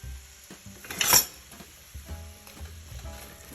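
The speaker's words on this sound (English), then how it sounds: "Let's go on in that skillet with the onion that's not very finely diced up, just chopped." Chopped onion, not finely diced, sizzling in a skillet during home dinner prep for squash; a sharp burst of frying hiss near the start settles into quieter clinking and stirring of pans.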